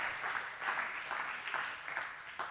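Congregation applauding at a church service, a steady wash of many hands clapping with rhythmic swells, moderately loud and continuous without speech.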